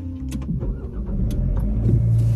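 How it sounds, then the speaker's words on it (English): A 2024 Nissan Sentra SV starts up from inside the cabin: a short cranking burst, then the engine catches and settles into a low, steady idle, heard close and alone. "Let's start the car."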